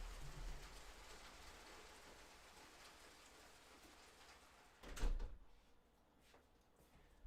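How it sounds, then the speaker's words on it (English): Heavy rain pours steadily as a dense, close wash of drops on surfaces, with a sharp knock or thud near the end before the rain drops to a quieter patter. "It's kind of raining cats and dogs."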